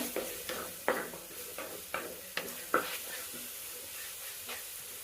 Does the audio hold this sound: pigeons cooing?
no